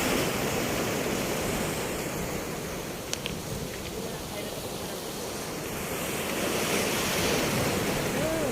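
Steady roaring surf at the seashore in Baler, Aurora, Philippines, waves washing in continuously with a wind-blown rush, briefly swelling louder near the end.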